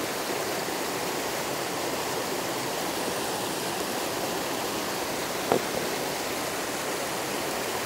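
A low-running river flows past a small pool with a steady, even rush of water, close and continuous throughout, and a single faint knock partway through.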